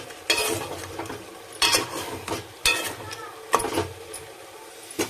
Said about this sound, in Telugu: ఈ ముక్కలు వేసి బాగా కొద్దిసేపు ఆయిల్లో